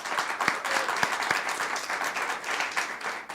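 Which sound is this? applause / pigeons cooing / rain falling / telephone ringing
applause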